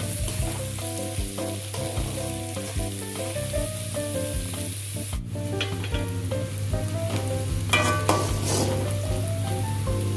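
Carrots and beans sauté in a pan for idli upma, giving a steady, close sizzle and frying crackle, with stirring scrapes and light taps throughout and no voices.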